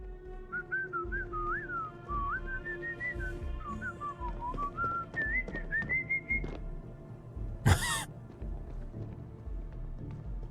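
A person whistles a simple wandering melody, clear and close, in a game called Starfield, with faint background footsteps and clatter and a sharp thump near the end.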